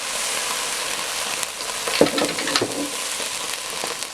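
Passata sauce sizzling in a hot pan with a slightly caught bottom, a steady close hiss with a few brief crackles and spits, no voices.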